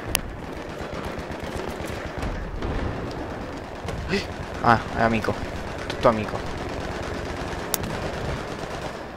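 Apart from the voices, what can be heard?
gunfire in the video game Battlefield 3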